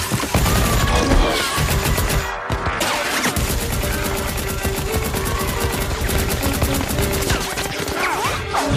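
Rapid gunfire bursts from the animated series Arcane, dense and loud over a busy action soundtrack, with crashes and impacts mixed in.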